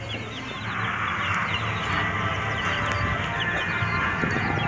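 Chickens cluck and murmur around a backyard coop, a continuous busy chatter of several birds at moderate distance, with no voices over it.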